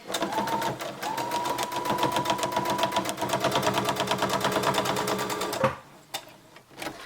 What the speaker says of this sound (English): So we're going to do a straight stitch on all these lines.